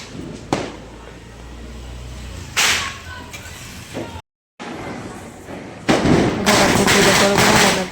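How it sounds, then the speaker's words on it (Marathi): Firecrackers burst during a Diwali Lakshmi Puja celebration at home, sharp loud cracks and pops arriving in separate bursts with a denser crackling run near the end, close by over background noise. "आता याला फटाके फोडू घालायला"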